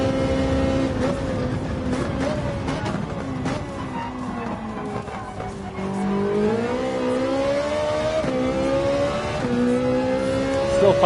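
A Ferrari race car in Gran Turismo 7 drones loudly and continuously, its engine pitch rising and falling through gear changes and throttle shifts with no talk over it.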